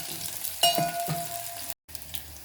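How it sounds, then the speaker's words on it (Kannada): Green chillies and crushed garlic fry in hot oil, a steady close sizzle with a few sharp metallic scrapes of stirring, a brief cut to silence, then the sizzle resumes. "ಈ ಬೆಳ್ಳುಳ್ಳಿ ಮತ್ತು ಹಸಿಮೆಣಸಿನಕಾಯಿ ಹಾಕಿ ನಾವು ಹುರಿದ್ಕೊಳ್ತೀವಲ್ವ, ಎಣ್ಣೆಯಲ್ಲಿ ಫ್ರೈ ಮಾಡ್ಕೊತೀವಲ್ವ"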